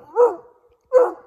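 Two loud, close barks from a young coon hunting puppy of old-time stock dog lines, separated by a short pause, out in the West Virginia night with no talk over them.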